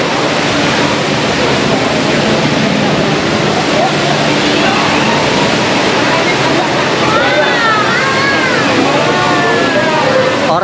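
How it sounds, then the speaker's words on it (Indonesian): An indoor waterfall in the misty Cloud Forest conservatory at Gardens by the Bay keeps up a steady, loud broadband rush throughout, with people talking and background voices over it. "Dan pemandangan masuk kita disambut dengan air terjun"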